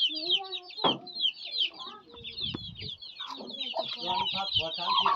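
Chickens on a farm cluck busily and close by, with overlapping high peeping calls and a few sharp squawks running continuously throughout.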